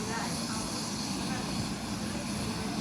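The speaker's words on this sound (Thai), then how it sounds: "เฮลิคอปเตอร์กำลังสิขึ้นแล้ว" A helicopter takes off with a loud, steady broadband roar of engine and rotor that fills the short stretch without pause.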